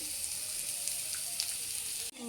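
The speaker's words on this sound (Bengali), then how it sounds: "যে সব এখন নাড়াচাড়া করে ভাজা ভাজা করছি" Potatoes and mixed chopped vegetables are stir-fried in a pan. A close, steady sizzling hiss runs throughout, with a few faint stirring clicks, and then breaks off suddenly.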